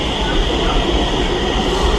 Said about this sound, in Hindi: ये आप लोग देखिए मेट्रो जा रही है